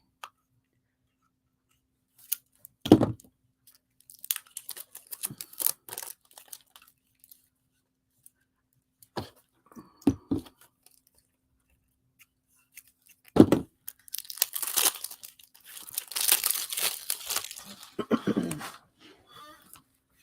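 Bursts of paper and plastic tearing and crinkling as mail packages of art supplies are opened, close by, with short rustling spells separated by quiet pauses.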